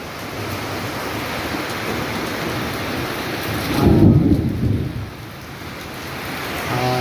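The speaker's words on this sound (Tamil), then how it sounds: "இடி வருது." Thunder rumbles through steady rain in Kerala, a deep roll swelling midway and fading while the heavy, hissing downpour continues throughout.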